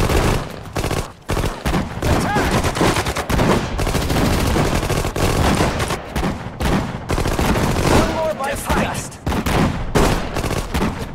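Continuous heavy gunfire in the World War II strategy game Sudden Strike 4, during a D-Day mission: loud, overlapping machine-gun and rifle volleys with brief gaps, under shouted unit voice lines.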